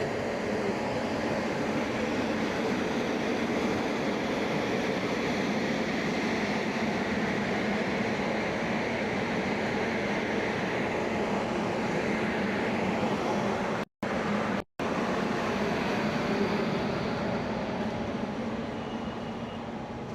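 The Gangasagar Express, a passenger train with LHB coaches running between Sealdah and Bandel, rumbles steadily with loud continuous wheel and track noise heard from inside. The sound breaks off briefly twice near the end.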